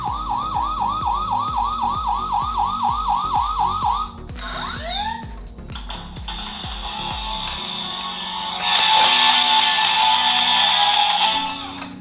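A Mega Bloks Paw Patrol toy police car belonging to Chase plays a loud electronic siren close up, first as a fast, rapid warble, then sliding wails, then a harsher sustained tone with no talking.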